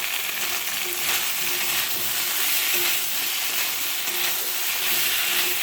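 Mixed vegetables being sautéed in a pan, a dense unbroken sizzle and hiss, loud and close, with faint stirring movements underneath and no speech.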